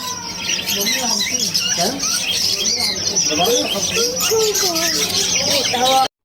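Birds chirp and call in short, varied bursts through the whole stretch at close to moderate distance, with a steady outdoor hiss behind them and no talking.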